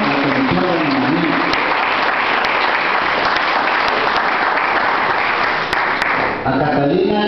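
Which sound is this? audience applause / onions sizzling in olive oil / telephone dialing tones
audience applause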